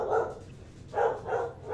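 A dog barks in a Final Fantasy XIV game scene, giving three short, fairly close woofs with gaps between them over a quiet background.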